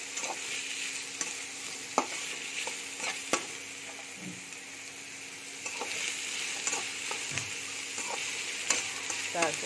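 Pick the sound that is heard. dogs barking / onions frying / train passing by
onions frying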